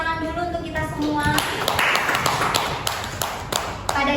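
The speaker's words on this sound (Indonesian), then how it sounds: "Beri tepuk tangan dulu untuk kita semua" A classroom of students claps hands together in a microteaching physics lesson, sharp individual claps at first that merge into a lively, uneven burst, close and loud, with a voice heard over the start.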